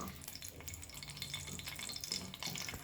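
Dried red chilies, four or five of them, fry in about two tablespoons of hot oil in a kadai, giving a steady soft sizzle with faint stirring clatter and no voices.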